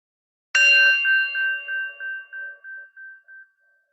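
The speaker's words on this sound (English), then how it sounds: "as you take in the sound of the bell" A single meditation bell struck once in a gentle yoga class rings out clearly and alone, its bright tone pulsing with a slow beating shimmer as it fades away over about three seconds.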